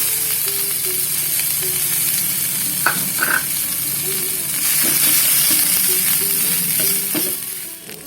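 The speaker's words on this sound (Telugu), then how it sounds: "శుభ్రం చేసి పెట్టుకున్న చింత చిగురుని కూడా వేసుకొని వేయించుకుంటున్నాను" Cleaned young tamarind leaves fry in a pan with a loud, continuous sizzle, joined by occasional light clicks and scrapes of stirring, then the sound fades slightly at the very end.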